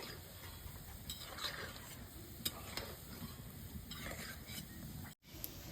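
Ripe jackfruit fritters fry in hot oil with a steady, continuous sizzle and occasional light crackles, close by and fairly even in level, with no talking.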